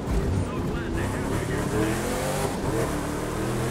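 Muscle car engine in The Crew 2 racing game, a steady loud drone with rising revs throughout, voices talking over it.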